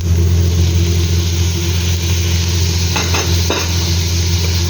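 Onions and tomato sizzle loudly in a pan for an Arabic-style rice dish, with a few scraping stirs breaking through the steady frying noise.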